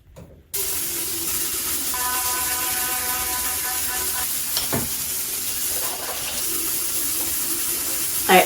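A bathroom tap runs steadily at a sink while someone brushes their teeth and washes their face in a morning routine, with a continuous close rushing of water and a few small clinks and knocks on top.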